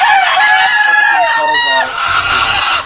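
Fayoumi chickens on a poultry farm crow and cluck close by, a loud, continuous mix of calls as a person talks over them.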